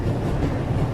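A train moving at full speed in the video game The Raven, a brief, steady low rumbling roar with wind-like noise.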